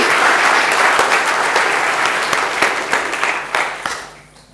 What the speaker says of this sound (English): So please give Adam a round of applause.